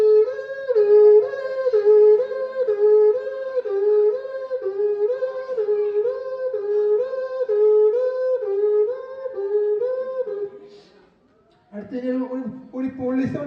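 A single human voice mimics an ambulance siren at a special school event, producing a loud two-tone wail that rises and falls in a steady repeating cycle for about ten seconds before stopping, followed by brief vocal sounds.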